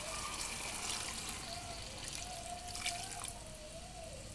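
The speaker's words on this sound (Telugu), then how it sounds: "వాటర్ పోసుకుందాం" Water poured into a pan of gongura chicken curry makes a steady, moderately loud trickling and splashing that runs without pause from start to finish.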